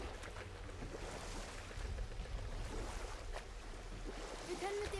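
A boat moves over open water in the video game God of War, with a steady broadband wash of waves and splashing, moderately loud and continuous, plus a brief tonal cue near the end.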